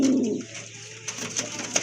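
A pair of pink-beaked Lotan pigeons coo softly up close, one low throaty coo followed by quieter murmurs, with no talking.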